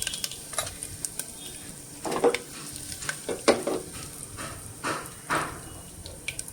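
Mustard seeds and cumin crackle and pop in hot oil for tempering, with scattered sharp sizzling bursts over a steady frying hiss, close by.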